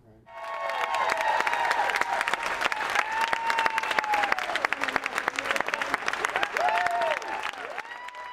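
A large, enthusiastic crowd at an airport terminal in Washington, D.C. greets arriving veterans with sustained loud applause, with cheering and whistles rising over the clapping, near and continuous after a brief quiet start.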